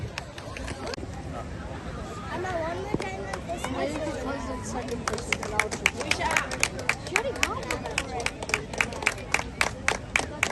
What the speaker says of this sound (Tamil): மீண்டும் எங்கே உங்கள் கரகோஷம்?